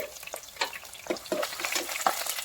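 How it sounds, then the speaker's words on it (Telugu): Chopped onions dropped into hot oil with dried chillies and curry leaves for Bangalore-style bisibelebath, a close crackling sizzle broken by uneven bursts of stirring. "ఇప్పుడు కట్ చేసి పెట్టుకున్న ఉల్లిపాయ ముక్కలు వేసుకోవాలి"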